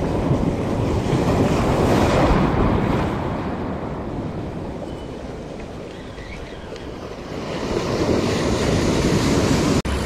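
Ocean surf breaks steadily on the shore at Ventura at high tide, a loud, continuous wash that swells and eases with wind buffeting the microphone.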